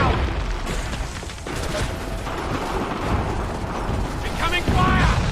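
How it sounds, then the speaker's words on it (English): Incoming artillery fire in Assassin's Creed III, with heavy booms and a dense rumbling barrage filling the scene as voices shout amid the noise. "Incoming fire!"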